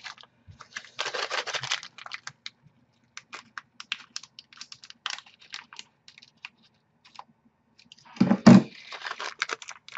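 Pocket knife scissors snip and crinkle open a plastic Japanese candy package in short, close, scattered bursts of cutting and rustling. A sharper tearing sound comes near the end.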